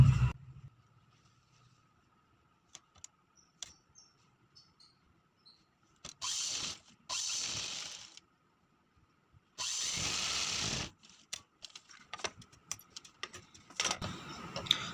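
An electric sewing machine stitches a full sleeve in short motorized bursts of whirring, separated by near-silent pauses and small handling clicks.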